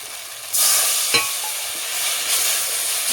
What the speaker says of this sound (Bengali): যেটাকে আমি ভালোভাবে একটু মশলার সঙ্গে ভেজে দেবো।